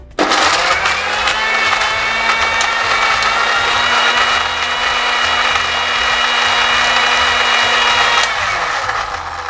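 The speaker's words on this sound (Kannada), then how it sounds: "ಈ ಪಂಪ್ಕಿನ್ ಅನ್ನು ಬೇಯಿಸಿಟ್ಟದನ್ನು ಮಿಕ್ಸಿ ಜಾರಿಗೆ ಹಾಕ್ಕೊಂಡು ರುಬ್ಕೊಳ್ಳುವ" Mixer grinder blending boiled pumpkin in its jar, starting abruptly into a loud, steady high motor whine held for about eight seconds before winding down.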